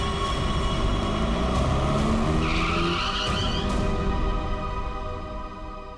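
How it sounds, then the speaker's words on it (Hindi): A car brakes hard mid-road with a loud, drawn-out tire skid over about four seconds, a rising squeal riding above heavy rumbling before the sound eases off. "बीच सड़क में गाड़ी क्यों रोक दी?"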